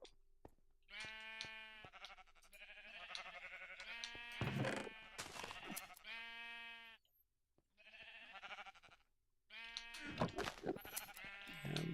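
Sheep in a video game bleat repeatedly in a series of drawn-out, wavering calls separated by short pauses, clear and up close with no talking over them.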